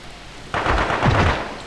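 A single gunshot in the video game Cold Winter, a sharp loud report with a booming tail that fades over about a second.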